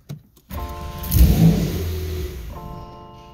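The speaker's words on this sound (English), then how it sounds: "start this nice vehicle" A 2024 Porsche 911 fitted with an anti-theft system cranks and starts close by. The engine flares in a short loud rev, then settles into a steady idle hum.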